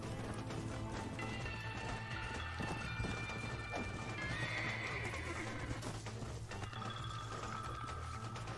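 A horse in Red Dead Redemption whinnies loudly over a busy mix of hooves clip-clopping and game noise, with the neighing cries rising clearly above the clatter.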